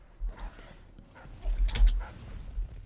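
Dog barking in the video game Dishonored: Death of the Outsider, a few faint, short barks with muffled game ambience and soft thumps.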